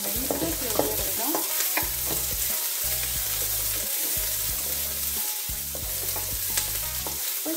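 Chopped onion frying in a pan as the first step of a cabbage and shrimp soup, a loud steady sizzle broken by repeated stirring scrapes in an even rhythm, close up and without talk.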